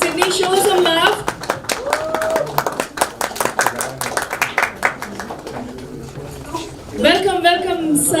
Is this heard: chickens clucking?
no